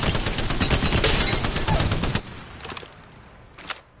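Spitfire light machine gun in Apex Legends fires a rapid, loud sustained burst for about two seconds, then a few short trailing bursts fade out, with speech faintly mixed in.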